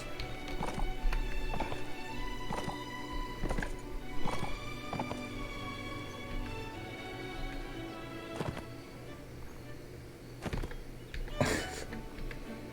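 Horse hooves clip-clop in a video game, a series of distinct, fairly close hoof strikes at an uneven pace over the whole clip, with a horse neighing at times.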